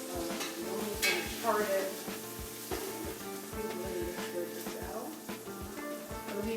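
Butter and flour roux cooking in a pot for seafood gumbo, a soft steady sizzle with scraping stirs and light clinks of utensil on metal, faint and close, while a person talks over it.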